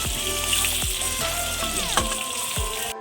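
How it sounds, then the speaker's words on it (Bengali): Potatoes fry in hot oil in a home kitchen, giving a steady bubbling sizzle with a few light clinks and stirring sounds. "ভেজে নিলে একটু ভালো হয় আমি ভেজেই নিচ্ছি যেহেতু অনেকটা আলু"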